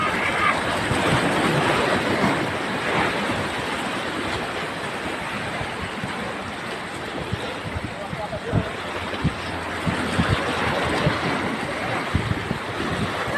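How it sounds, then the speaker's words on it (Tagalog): Big ocean waves crash and wash along the shore at Ilocos Sur, a continuous broadband roar with wind buffeting the microphone, while people talk over it at times. "Lalaki ng hampas ng alon"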